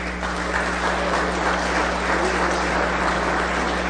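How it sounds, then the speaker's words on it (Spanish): Steady, dense applause fills the Puebla Congress chamber at a session with the Secretary of the Interior, the clapping sustained and fairly loud throughout with no pause. "Un fuerte aplauso para ellos"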